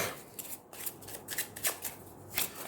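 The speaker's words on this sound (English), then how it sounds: "We do, however, have to shuffle the rest of the deck" A deck of game cards is shuffled by hand at close range, several quick riffles and crisp shuffling bursts in an uneven rhythm, with no talking.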